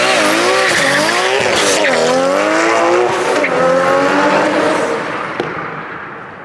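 A Nissan R32 GTR with a new HKS 2.8 engine launches hard, engine screaming up through the revs with tire squeal, loud and close, then fading as it pulls away.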